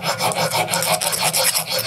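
Steady, rapid rasping strokes of a file or sandpaper working a part of a Zündapp Sport Combinette moped, close and loud with an even back-and-forth rhythm.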